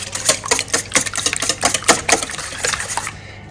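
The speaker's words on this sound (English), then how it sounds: "let's add in our eggs and give that a nice little whisk." Eggs whisked in a bowl for caramel pudding, a quick run of sharp rhythmic clicks and taps, about a dozen strokes, close and fairly loud, stopping just before the end.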